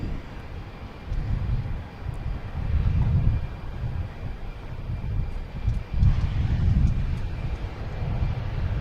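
A JetBlue airliner arriving at Boston Logan from Chicago gives a steady low roar that swells and fades slightly over nine seconds, distant and continuous with no voices.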